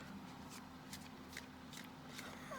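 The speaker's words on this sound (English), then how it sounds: "I'll give it a quick shuffle" A deck of tarot cards is shuffled quickly on a desk, soft riffling bursts repeating in a quiet room, close and gentle.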